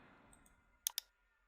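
Two sharp mouse clicks in quick succession, close and clear over a quiet room hum.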